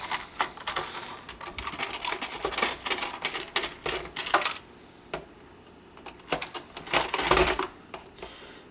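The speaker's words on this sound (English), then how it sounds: "we're going to take a Phillips head screwdriver. I'm just going to start to loosen these up." A Phillips head screwdriver loosens the screws on a BMW E39 headlight, making dense, irregular metallic clicks and ratcheting scrapes close by, in uneven bursts with a brief lull partway through.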